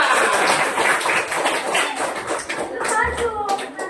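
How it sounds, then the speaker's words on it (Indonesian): A classroom of students claps for a student group presenting a science lesson on light, scattered tapping applause mixed with children's voices and talk throughout. "kita beri tepuk tangan untuk kelompok 2"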